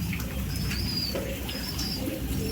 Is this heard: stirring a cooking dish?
no